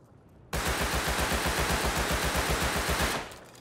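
A Thompson submachine gun fires in the video game Rust, a single rapid, loud, evenly spaced burst of about two and a half seconds that stops abruptly.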